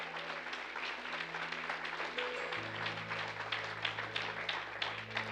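Congregation applauding during a Spanish-language church sermon, a steady wash of distant clapping that lasts the whole span at moderate level, with a low organ or keyboard hum underneath.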